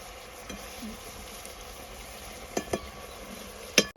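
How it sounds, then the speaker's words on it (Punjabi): Spice masala frying in a pan, a faint soft sizzle with a few sharp clicks and pops near the end, no voices. "ਲਓ ਜੀ ਦੇਖੋ ਮਸਾਲਾ ਆਪਣਾ ਚੰਗੀ ਤਰ੍ਹਾਂ ਭੁੱਜ ਭੁੱਜ ਗਿਆ"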